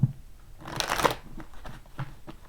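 Tarot cards are shuffled in a quick riffle close by, followed by a few soft taps and flicks.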